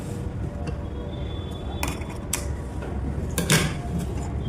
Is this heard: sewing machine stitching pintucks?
yes